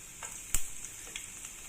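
Ginger drops into hot cooking oil for chicken liver, giving a short sharp crackle and then a faint steady sizzle, with no voices.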